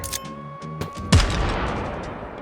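An RGN grenade detonates in the H3VR virtual-reality game: a single loud, close blast with a broad rumbling tail that lingers, following a few quieter clicks and handling noises.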